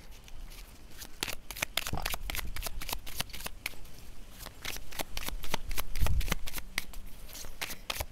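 Tarot cards are shuffled close up in quick, crisp riffling bursts and soft slaps, repeating steadily and fairly quietly with no talking.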